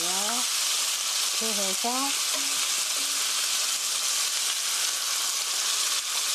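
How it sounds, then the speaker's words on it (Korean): Chicken and cabbage stir-fry sizzling loudly and steadily in a pan, broadband hiss throughout, with someone speaking briefly over it near the start. "막 휘저으면 달라붙으니까 살살 저어주세요"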